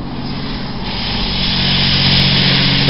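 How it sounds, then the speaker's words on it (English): A pressure washer sprays a motorbike with a loud, steady hiss and rushing noise that holds close and continuous and builds slightly in level. "A pressure wash."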